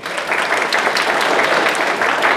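A convention panel audience at Bronycon 2015 bursts into loud, close applause, a thick, steady wash of many hands clapping together with no talking over it.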